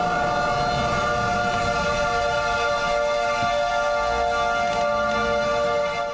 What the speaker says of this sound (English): This is going through DeSoto, and the sirens were wailing.